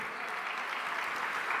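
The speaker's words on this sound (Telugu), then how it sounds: "చప్పట్లు గట్టి కొట్టి దేవుని స్తుతిద్దాం." A church congregation claps together in praise, a steady, even roll of many hands, moderately loud and unbroken, with no talking.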